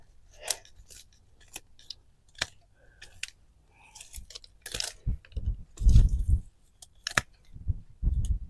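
Pruners snipping back peony stems in a garden, sharp close clicks and crunchy cuts at irregular intervals, with rustling of foliage between.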